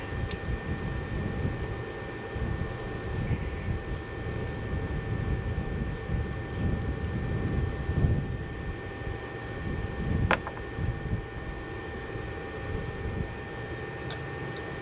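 An Evinrude Playmate outboard motor with a carburetor issue drones steadily under throttle, a dense, loud and continuous mechanical noise with no talk over it.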